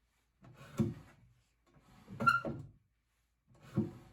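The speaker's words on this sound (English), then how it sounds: "The bottom of the drawer is just barely scraping the bottom" Three separate wooden scraping bursts, each a short rough drag of an Art Deco dresser drawer whose bottom scrapes, spaced apart with quiet gaps in between.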